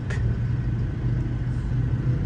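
Afternoon car traffic crawls along a road beside a school, a continuous low engine rumble with passing vehicles, close and steady, and no one speaking.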